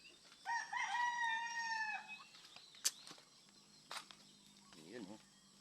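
A rooster crows loudly on a family farm with scattered free-roaming chickens, followed by a few scattered clucks and short calls, close and otherwise fairly quiet.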